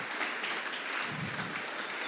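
Church congregation applauding as an offering of acclamation, a dense, steady wash of many hands clapping, moderately loud and continuous.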